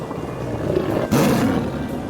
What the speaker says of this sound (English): And there's a tiger.